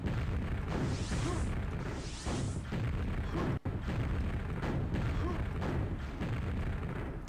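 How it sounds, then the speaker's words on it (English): Rocket launcher in a Quake-style video game firing and exploding, heard as a continuous loud barrage of booming blasts and rumbling bursts with no pause except one brief cut midway. "Okay, so rocket launcher."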